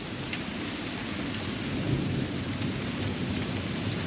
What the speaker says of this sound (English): That's the rain, guys.